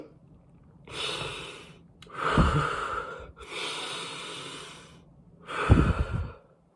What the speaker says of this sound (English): Just take a deep breath like nobody's around you.